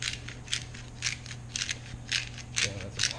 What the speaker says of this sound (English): I always prefer this peppercorn grinder